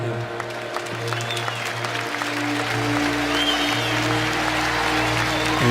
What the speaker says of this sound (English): Nice show of support from the Ohio State fans. Clapping and chanting saying Tommy.